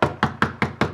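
Knocking at the back door in a cartoon: five quick, evenly spaced knocks in a tight rhythm, close and crisp, with no other sound.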